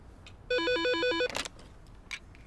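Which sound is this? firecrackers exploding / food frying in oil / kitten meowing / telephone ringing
telephone ringing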